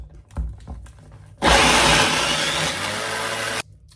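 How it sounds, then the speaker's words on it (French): A kitchen blender whirs loudly for about two seconds, blending pepper, parsley, onion and garlic, after a few soft knocks; the motor starts abruptly and cuts off sharply, close and alone. "Et je mets le tout dans mon mixeur."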